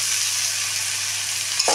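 Sliced ridge gourd goes into hot oil for a fish-head shukto, giving a steady close sizzle with a brief sharper hiss as the pieces land near the end.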